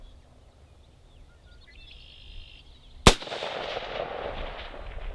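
Single loud AR rifle shot fired at 400 yards toward a big steel plate, a sharp crack close by followed by a rolling echo that fades over the next two seconds.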